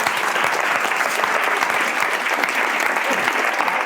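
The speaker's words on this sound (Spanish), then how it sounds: "el aplauso venía muy oportuno" Steady, dense applause from an audience at an ágora talk, a continuous wash of many hands clapping at even loudness throughout, with no individual voice standing out.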